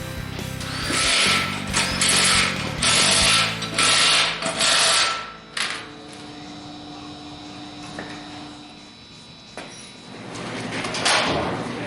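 A hoist lifts the cab of a 1958 Chevy Apache in a workshop, giving several loud, rhythmic mechanical whirring bursts, then creaks and clanks as the cab is moved over the chassis.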